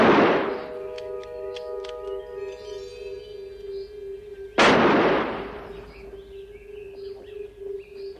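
Gunfire in a 1960s British TV drama scene: a sharp report at the start, then a lingering ringing tone, then a second loud, close crack that decays slowly into quiet.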